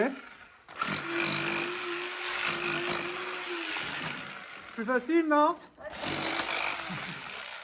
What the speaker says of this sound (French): cette première expérience au marteau-pique?